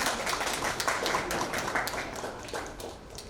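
Applause for a guest at a fashion awards event: a light, scattered patter of hands clapping, fairly even and moderately close, gradually thinning toward the end.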